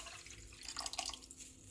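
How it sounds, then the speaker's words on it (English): Water swirled inside a nearly empty sauce container to rinse out the residue while cooking a student's spicy pasta; a soft, watery trickling and sloshing builds and then settles, close and fairly quiet. "get the residue, get that water swirling in there"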